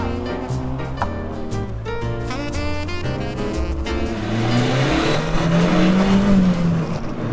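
Stock beater car with stock tires, brakes and power driving laps on a race track, engine droning loudly and rising in pitch as it accelerates, with a brief tire squeal, steady and close throughout.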